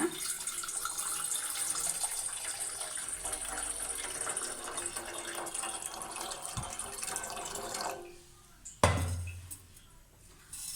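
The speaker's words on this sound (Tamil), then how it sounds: "இந்த பாத்திரத்தில் நம்ம இப்போ 2 டம்ளர் அளவு தண்ணி சேர்த்துக்கலாங்க" Water pours steadily into a metal cooking pot for several seconds, about two tumblers' worth, then stops, followed by a sharp clink of the vessel.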